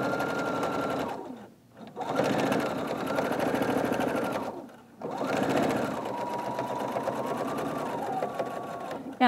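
Sewing machine stitching quilt fabric, running over an earlier line of stitching; a loud steady whirring buzz in three long runs with brief pauses between them, no talking.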